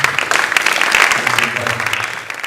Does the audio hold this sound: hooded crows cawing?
no